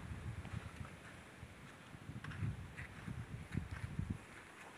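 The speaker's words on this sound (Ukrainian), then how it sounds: "Вітер щось розгулявся." Gusty wind buffets the microphone in uneven low rumbling bursts during light drizzle, with faint rustling and splashing in the background.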